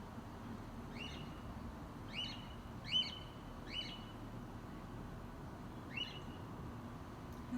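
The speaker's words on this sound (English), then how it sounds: "That bird." A bird calls outdoors in short, chirpy bursts, a handful of faint repeated notes at uneven intervals over a low background hum.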